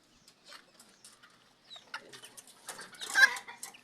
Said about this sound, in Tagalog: Yan o, mga sisiyo ko ng mga serama.